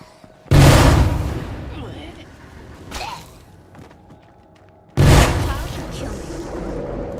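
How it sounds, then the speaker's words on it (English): Two loud explosions in the video game State of Decay 2, about four seconds apart, each a sudden heavy boom trailing into a rumbling decay, with a softer burst between them. "you'll have to hear the explosion over and over and over again"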